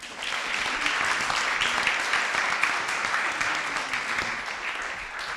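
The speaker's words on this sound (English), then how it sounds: "S'il vous plaît, un tonnerre d'applaudissements pour ces magnifiques présentations." Audience applause fills the hall at the 2025 3MT/MT180 research presentation competition final for the finalists, a dense, steady wash of clapping that holds for several seconds at even volume.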